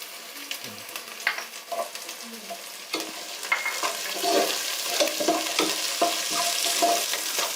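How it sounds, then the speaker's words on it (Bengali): Onion and garlic fry lightly in a pan for chicken bhuna khichuri, a steady close sizzle broken by repeated scraping and stirring clatters, with no talk. "তো পেঁয়াজ রসুনগুলো সামান্য একটু ভেজে নেব।"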